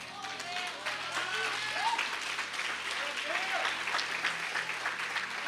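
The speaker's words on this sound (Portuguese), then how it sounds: "dá um aplauso para Jesus aí" A church congregation claps in applause during a lively midweek prophetic service, dense and sustained, while a preacher's voice rises over the clapping.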